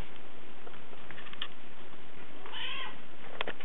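A hungry cat meows several times at close range, with short calls and one drawn-out meow between soft pattering and faint ticking noises, with no talking.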